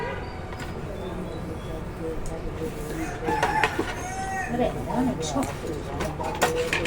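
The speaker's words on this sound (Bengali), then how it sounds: "তাই মুরগিটা জবাই করে দিচ্ছি" A pet chicken clucks and crows over a dull background rumble, several close calls in the latter half, while a person speaks.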